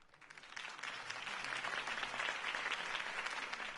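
Crowd applause in a Batman Telltale game scene after a Harvey Dent campaign speech, a steady wash of clapping that swells slightly and holds, moderately distant and soft.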